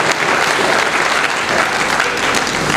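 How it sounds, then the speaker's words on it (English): An audience at a university inaugural lecture breaks into sustained applause, a dense, even wash of many hands clapping throughout, fairly loud and filling the hall. "A round of applause for her."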